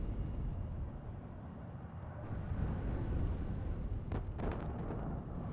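An Su-24 bombing run in the game WARNO, heard as a continuous deep rumble of explosions swelling at a distance, with a few sharper cracks close to the end.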